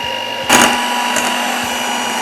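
An electric mixer beating cupcake batter, giving a steady, loud mechanical whir with a constant motor hum and a brief louder surge near the start.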